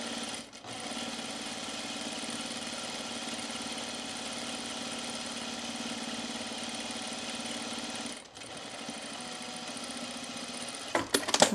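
A sewing machine stitches men's cargo shorts in a long continuous run of steady motor hum and rapid needle clatter, close and even. It stops briefly near the start and again around eight seconds before resuming.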